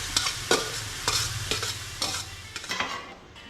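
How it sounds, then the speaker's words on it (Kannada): Bamboo shoots stirred and fried in a pan after tempering. A constant sizzle runs throughout, cut by sharp scraping stirs at an irregular rhythm, close and moderately loud, and no one speaks. "ಒಗ್ಗರಣೆ ಹಾಕಿದ್ದಾಯಿತು, ಬಿದಿರಿನ ಕರಳೆ ಹಾಕಿದ್ದಾಯಿತು. ಈಗ ಆಡಿಸ್ಬೇಕು."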